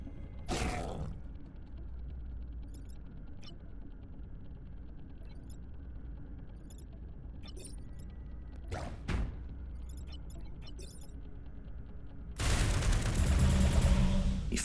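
Shots fired in the video game Into the Breach: a sharp blast just after the start, another short boom near the middle, then a loud, sustained barrage of shots filling the final two seconds over a low rumbling backdrop.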